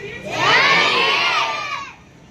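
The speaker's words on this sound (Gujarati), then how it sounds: "તાળીઓના ગણગણાટથી વધાવો" Crowd at a village free book-distribution event cheering and shouting, a loud swelling burst of voices that rises quickly, holds for over a second, then fades.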